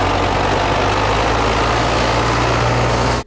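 A tractor engine rumbles steadily and loudly at close range while clearing snow from city streets in winter, with an unbroken low drone throughout and no talking.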